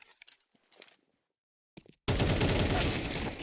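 Gunfire from a competitive video game match: after a few faint scattered taps, a loud, dense burst of rapid shots erupts and keeps going without pause to the end.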